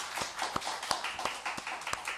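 A church congregation clapping in thanks during a Sunday service, a light, scattered round of hands with several distinct claps at an unhurried pace, fairly faint and brief.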